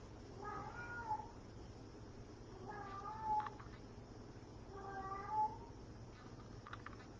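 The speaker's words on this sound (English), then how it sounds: "you may have heard my beautiful cat, Tiger Lily, wishing us a good morning" Domestic cat named Tiger Lily meowing three times at steady intervals, each call a drawn-out, wavering meow at moderate distance over a low steady background hum, no talking.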